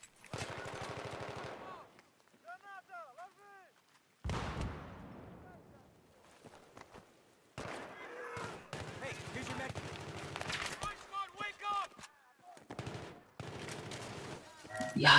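Gunfire in a 2v2 online shooter match: bursts of rapid shots and single cracks scattered through the stretch, some close and loud, mixed with game effects while players talk over it.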